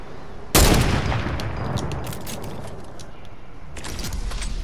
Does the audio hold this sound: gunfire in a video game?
yes